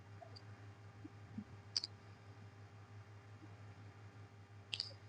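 Two sharp computer mouse clicks on a Save and Next button while filling out an online passport application form, spaced a few seconds apart over a steady low electrical hum.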